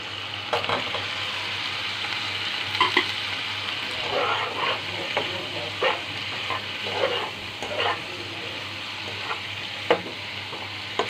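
Fried teasel gourd with chili being stirred in a pan, a continuous close sizzle broken by repeated scraping and clacking of the spoon against the metal, with no talking.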